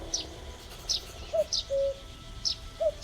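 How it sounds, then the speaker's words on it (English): Bird calls in a video game forest scene: short high chirps repeating every second or so, answered by lower cooing notes, fairly faint and clear with no talk over them. "The woodpecker."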